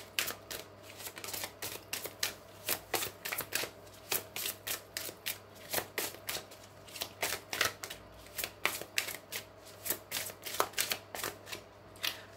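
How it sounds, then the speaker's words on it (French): Angel oracle cards being shuffled by hand, a steady series of crisp riffling flutters in quick rhythm, close and fairly quiet, with no talking. "on va prendre l'oracle des anges de l'amour pour les taureaux"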